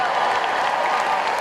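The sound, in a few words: audience applauding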